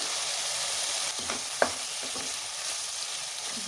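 Chopped tomatoes frying in a pan for a chicken gravy, with a steady broad sizzle and a few soft stirring clicks and scrapes, close by and with no speech.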